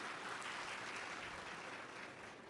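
A lecture audience claps together, a soft, distant, continuous patter of many hands that fades slightly toward the end.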